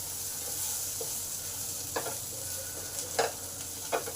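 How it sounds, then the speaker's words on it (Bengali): Potatoes and chickpeas frying in a pan, a soft continuous sizzle with a few sharp scraping stirs of a spoon against the pan, close and without voices. "আলুগুলো আমার ভাজা ভাজা হয়ে এসেছে"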